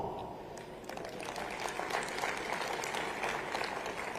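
Audience applause at a Gandhinagar event, beginning with a low murmur and building into steady, moderately loud clapping from a large crowd.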